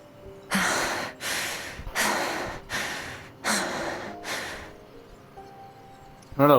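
Skirk, a character in the video game Genshin Impact, pants in six strong, evenly spaced breathy bursts, each about half a second long. A short, sharp sound closes the sequence.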